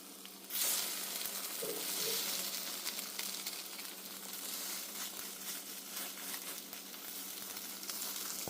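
French toast made from pumpkin twist brioche sizzling in a buttered pan as it is flipped, a loud steady fry that jumps up at the turn and crackles on alone.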